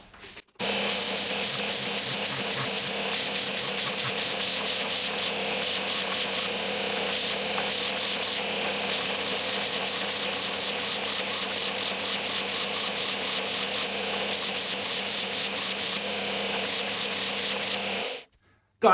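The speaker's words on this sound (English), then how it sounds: "set up so you know it's going to sand off this down to the line here" Wood is sanded down to a marked line in steady, close, rhythmic rubbing strokes that continue without a break for about seventeen seconds, then stop.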